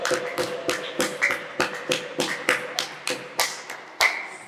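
A church congregation claps along in a steady rhythmic beat, crisp close hand claps repeating about three times a second with a faint tone lingering underneath.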